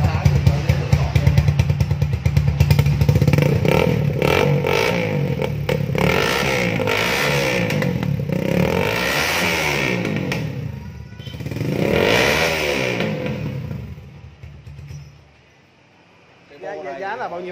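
A 2018 Kawasaki Ninja 125 sport motorcycle engine runs with a steady low rumble beneath ongoing conversation, then cuts out near the end before a brief return of sound.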